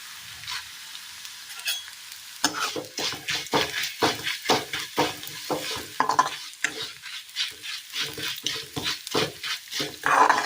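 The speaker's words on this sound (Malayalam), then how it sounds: "ചൂടായി വന്ന എണ്ണയിലേക്ക് നമുക്ക് അവിൽ കുറച്ചിട്ട് കൊടുക്കാം" Flattened rice (aval) fries in hot oil in a pan over a low flame, a soft sizzle broken by steady, rhythmic scrapes and tosses of a stirring spoon, close and fairly loud, with no talking.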